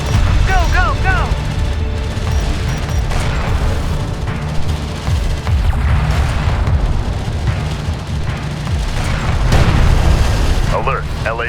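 Combat in Homeworld: Deserts of Kharak, an armored vehicle under gunfire with continuous booms, explosions and rattling shots layered densely throughout, while radio voices call out over the battle.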